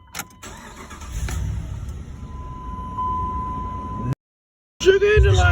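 A 2005 Dodge Ram 1500 SLT 4x4 with the 5.7 liter Hemi cranks and fires after EGR valve work, settling into a steady idle with a warning chime. A brief silence follows, then speech and the engine again.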